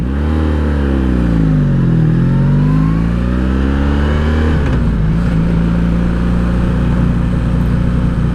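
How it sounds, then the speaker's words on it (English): 1984 Honda Sabre VF1100S motorcycle accelerating in first gear, a close, loud engine that revs up, dips, climbs again, then settles into a steady rumbling drone with wind noise, no talking. "Alright, first gear."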